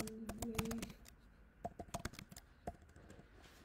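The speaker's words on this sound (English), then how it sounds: "Hit return first or just continue typing?" Typing on a keyboard inside a camper van, heard as scattered, fairly faint taps and clicks at an irregular rhythm. Earlier there is a short passage of voices or bird-like calls.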